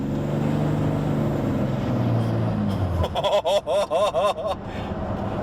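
A Cummins 6BT diesel in a Nissan GU Patrol with a 4L80E automatic drones loudly and steadily, then pulls harder under acceleration, its revs rising and falling in quick pulses near the end.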